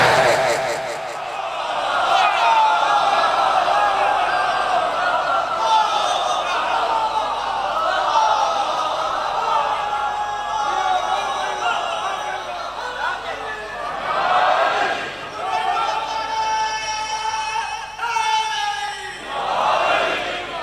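A crowd at a Ramzan religious gathering marking the martyrdom of Mola Ali chants slogans in loud, rising and falling waves, with a speaker's voice breaking in between bursts.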